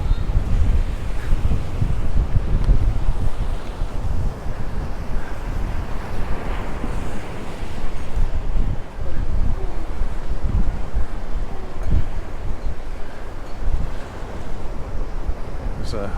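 Strong wind and breaking surf on a stormy day at Santa Ponsa, Mallorca, with water washing over, a loud continuous roar buffeting the microphone with surging waves throughout.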